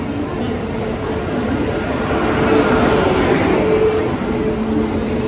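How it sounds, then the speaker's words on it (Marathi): A train pulling into a station on the Ekvira route, a steady low rumble and rolling rail noise that swells slightly midway, with faint metallic tones over the top. "आली आपली ट्रेन आली."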